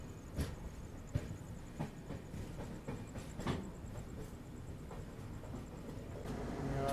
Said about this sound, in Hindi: यहाँ पे फ्रेट क्रॉस कर रही है नागदा जंक्शन को।